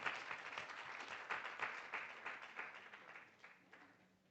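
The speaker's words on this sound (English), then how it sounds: "Let's give her a round of applause." Applause for a participant at an arbitration event in Nairobi, a steady patter of many hands clapping in a hall that gradually thins and fades toward the end.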